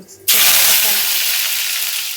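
Curry leaves, still wet from washing, drop into hot oil for tempering and burst into a loud, sudden sizzle with crackling that holds steady and slowly eases off.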